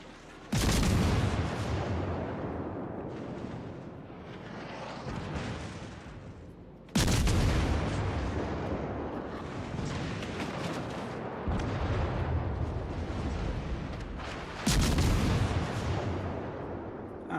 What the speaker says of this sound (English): Gunmu is getting shot in the ass by a Yamato